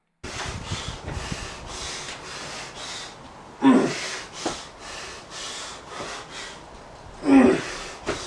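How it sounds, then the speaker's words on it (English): Heavy, rapid breathing after an intense gym workout, close to the mic: rhythmic panting bursts roughly every half second, with two louder, harsher gasping breaths standing out between them. "I left a clip in of me breathing like a whale or something, just to show that it is very tough"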